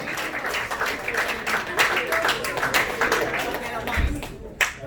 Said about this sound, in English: Clap it up for the kids.